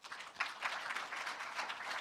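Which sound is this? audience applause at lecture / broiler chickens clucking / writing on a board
audience applause at lecture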